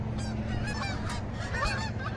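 Canada geese honk repeatedly in a chorus of overlapping calls over a steady low background rumble, with no talk.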